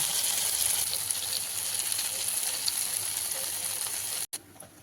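Continuous hiss and crackle of soybean chunks frying in oil, fairly loud and even throughout, briefly broken by a sharp cut near the end.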